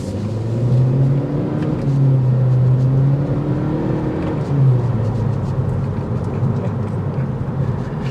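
A 2023 Acura Integra A-Spec with a CVT accelerating: a steady low engine drone with rising, sweeping tones as it pulls, heard from inside the car with no talking.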